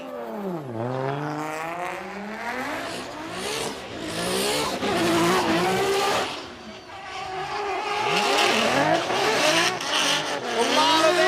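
A drift car at Formula Drift Japan sweeps through a corner with heavy throttle and big angle, the engine revving hard and swinging in pitch while tires squeal and skid, loud and continuous, with the engine note rising again toward the end.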